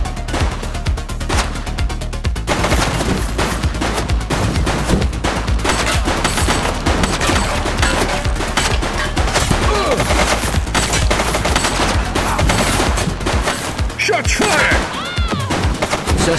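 Sustained rapid gunfire from a suspect shooting in the police game The Precinct, a loud dense fusillade of automatic bursts filling the whole stretch with little pause.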